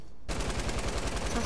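Machine gun in Fortnite firing a rapid, steady burst of evenly spaced loud shots that starts abruptly and runs to the end of the clip.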